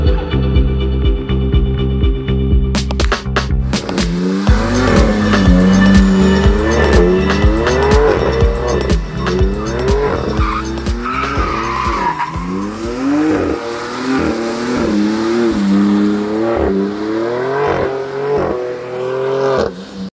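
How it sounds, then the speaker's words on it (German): BMW M4 drifting in a circle on a watered surface at the Bilster Berg track: loud engine revving rises and falls in repeated surges, with tire squeal and skidding throughout and no talking. "gibt es jetzt einen kleinen Drift um den Kreis"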